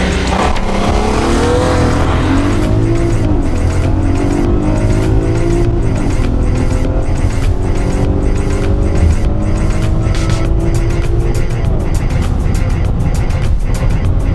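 Loud engines of a BMW and a Volkswagen Passat roar and rev continuously in a drag race, rising in pitch as they accelerate hard, with a rapid rhythmic rattle building toward the end.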